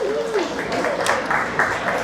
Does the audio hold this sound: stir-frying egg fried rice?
no